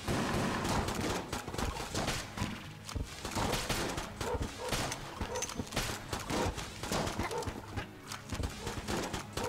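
Rapid gunfire in the video game Enter the Gungeon, dense bursts of sharp shots repeating in quick irregular volleys throughout, fairly loud and continuous with no talk over it.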